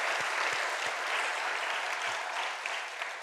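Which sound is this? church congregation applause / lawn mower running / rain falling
church congregation applause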